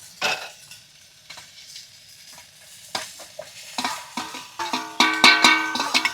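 Onion drops into a hot pan over a campfire at a night jungle campsite and starts sizzling, with metal spoon scrapes and clinks growing busier and louder toward the end.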